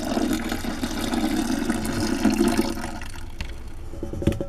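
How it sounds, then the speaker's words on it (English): Hot water is poured into a homemade laundry detergent mixture meant for removing oil and grease, a steady close splashing gush that tapers off and ends with a few small clinks. "now I'm dumping the rest in here"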